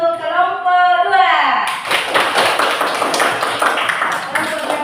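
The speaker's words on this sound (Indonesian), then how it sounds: "kita beri aplaus untuk kelompok 2" Classroom applause for a group of students, loud dense clapping from many hands bursting in after a spoken line and carrying on steadily to the end.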